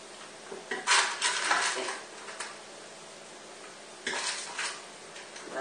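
A cheesecake mixture is scraped and stirred in a bowl, with scattered clinks and scraping bursts of utensil on the container, close by, and a brief spoken word.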